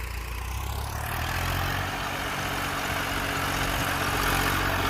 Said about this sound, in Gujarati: જો આપણે આ બ્લેડો નવી છે એટલે ટ્રેક્ટર લોડ બહુ પડે છે.